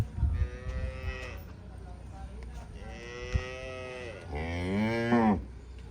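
Nili-Ravi buffalo moo close by on a farm, letting out long, drawn-out, deep calls, with the loudest bellow near the end over a low background rumble.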